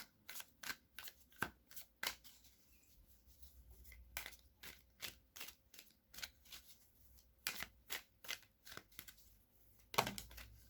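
Tarot cards being shuffled and drawn, crisp close riffling flicks in irregular bursts with short pauses between, one heavier rustle near the end.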